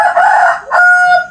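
A rooster crows loud and close, a single strident cock-a-doodle-doo with a brief break before the long drawn-out final note, heard alone without talk.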